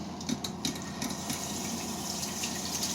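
Steady cold running water poured over a head of freshly dyed rainbow hair, a continuous close splashing gush with faint irregular drips and spatters, no voices.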